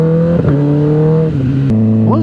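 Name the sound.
loud motorbike exhaust while riding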